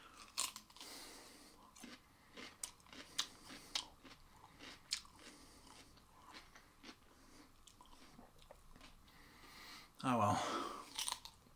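Someone bites into a fresh cucumber and chews with close, crisp crunches in an irregular rhythm, then takes a louder wet bite near the end, after a few spoken words.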